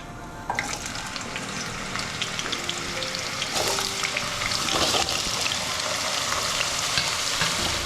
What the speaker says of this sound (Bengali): এঁচড়টা ভেজে নেবার পরে আলুটাও ভেজে নেব